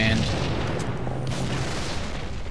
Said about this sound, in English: I rocketed that guy to death